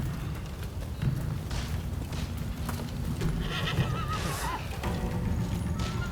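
Horses whinny and neigh at a horseback archery practice ground in the video game Rise of the Ronin, several calls over a steady low clip-clop and ambient bustle, moderately close.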